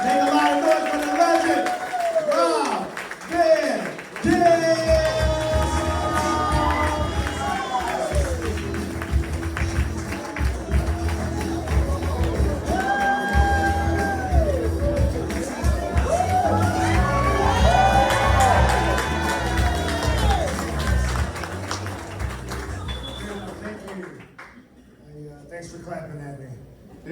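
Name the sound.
audience clapping and cheering for Rob Van Dam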